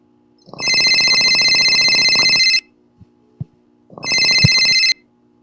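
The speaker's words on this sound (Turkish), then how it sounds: "Bir dakika benim telefon çalıyor." A mobile phone rings with an electronic telephone-bell tone, two loud sustained bursts of rapid trilling separated by a pause with a couple of faint clicks, close and alone.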